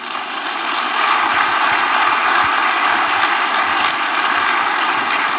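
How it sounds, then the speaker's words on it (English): Sustained audience applause at a formal economic event in Nigeria, honoring the Central Bank governor; dense, steady clapping from a large crowd that builds in the first second and holds loud and even throughout, with no talk over it. "We can keep the applause going."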